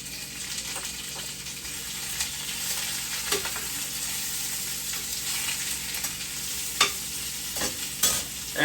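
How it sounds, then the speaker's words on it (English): Onions and golden-brown potatoes fry together in a pan with a steady, moderate sizzle, broken by occasional stirring scrapes and louder clatters toward the end. "Now I'm gonna add my onions and cook them in with the potatoes."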